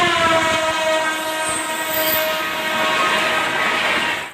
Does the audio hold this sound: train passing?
yes